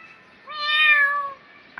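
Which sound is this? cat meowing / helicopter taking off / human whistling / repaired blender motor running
cat meowing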